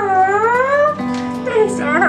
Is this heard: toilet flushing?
no